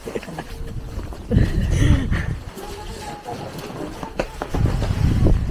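Strong winter wind in Armenia buffets the microphone in heavy low rumbles, rising and falling, with faint voices underneath.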